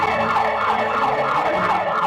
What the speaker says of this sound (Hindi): क्या वो साइरन है? ये बहुत ही अनोइंग है